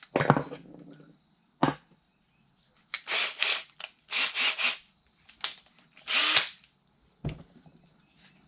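A 1.5 inch Forstner bit bores into wood in several separate bursts of drilling, each a few seconds long and close and loud, with quiet pauses between them and no talk.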